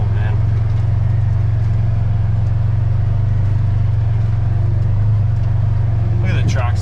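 A tractor working to clear brush and overgrowth on rural land gives off a loud, steady, close engine drone with a deep constant hum that holds unbroken throughout.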